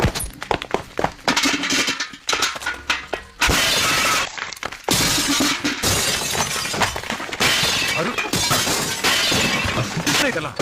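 Things are smashed and broken inside a house: loud, dense crashing and shattering of glass and objects with heavy thuds, continuous and chaotic throughout, close and forceful.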